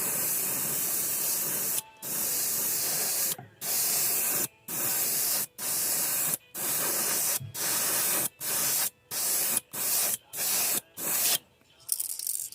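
An airbrush sprays thin sepia Candy2o paint onto crackle craw fishing lures in bursts of steady hiss, about a dozen close, loud spurts separated by short pauses, with no talk.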